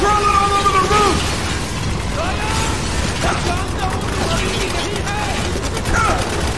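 Booming grenade explosions in the war shooter Spec Ops: The Line, mixed with clattering mechanical noise, debris bursts and shouted voices throughout a chaotic firefight.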